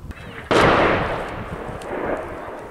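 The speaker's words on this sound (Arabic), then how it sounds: "قصف مدفعي من حواجز النظام على مدينة اللطاونة بريف حماة الشمالي" A single heavy artillery blast from shelling on the town of Latamneh in rural northern Hama, booming suddenly after a quiet start and then rolling away in a long, loud rumbling decay.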